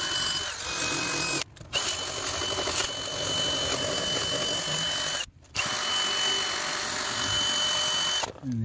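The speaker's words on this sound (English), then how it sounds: "I am just going to go over with my stainless steel wire brush and my trusty drill attachment" A power drill fitted with a stainless steel wire brush scrubs rust from the fuel tank on the underside of a Rover 45. It whirs loud and continuous, with two brief stops and one more near the end.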